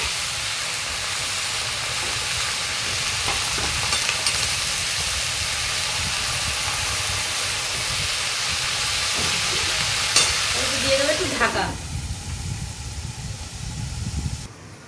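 Pumpkin greens cooking with ridge gourd and prawns in a pan, a steady hiss and sizzle running throughout with occasional stirring scrapes, then the sizzle drops away as the lid goes on near the end.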